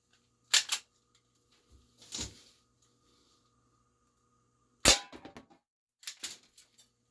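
A GameFace Stinger P311 airsoft pistol fires at a target from one yard. It gives a handful of sharp, close snaps, widely spaced, some followed by brief rattling clicks, against quiet surroundings.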